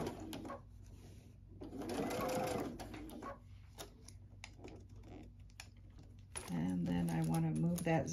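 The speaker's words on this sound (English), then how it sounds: "I'm going to do an edge stitch along here" A sewing machine runs in two steady bursts of rapid stitching, with quieter clicks and handling sounds between them.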